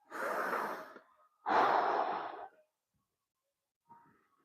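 Heavy breathing after a workout: two long, loud, breathy exhalations about a second each, close up, then a quiet pause and a faint shorter breath near the end.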